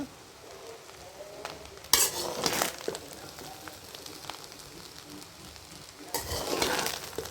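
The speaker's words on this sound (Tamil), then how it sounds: "இப்போ பரட்டி விட்டு நல்லா தம் உடச்சிக்குவோம்" Beef kabsa rice being stirred in a pot after dum cooking, with two bursts of scraping and rustling against the pot separated by a quiet stretch of faint background sizzle.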